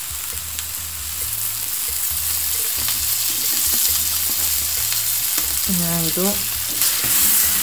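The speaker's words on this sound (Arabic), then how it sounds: "نحركو جيدا ما بقى والو ونكملو عملية الطهي" A filling stirred as it cooks in a pan with olive oil, with a loud continuous sizzle, scraping stir strokes and a brief clatter near the end, while a voice says a short word once.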